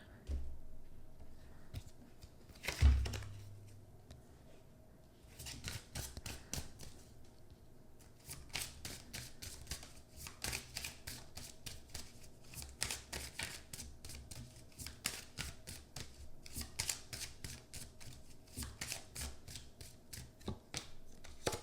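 Tarot cards are shuffled in rapid, crisp riffling bursts after an initial thump, continuing steadily at close range and fairly low volume.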